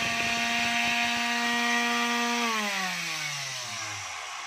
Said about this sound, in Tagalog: Yan po yung modelo ng finishing sander na DeWalt. So ito mga kabay gumagana pero maingay po.